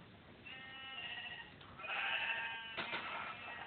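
Sheep in the Minecraft video game bleat twice in quick succession, the second call louder and longer, heard alone over a faint game background.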